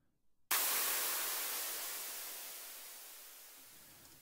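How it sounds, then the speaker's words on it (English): After a brief quiet moment, a burst of bright hissing white noise starts abruptly and slowly fades away, trailing a long reverberant decay. "just turn the white noise up a tiny bit more"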